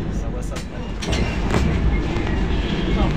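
A Vande Bharat Express on the Mumbai–Solapur run, boarded at Dadar, gives a continuous loud rolling rumble from inside the coach. Faint voices are heard beneath it.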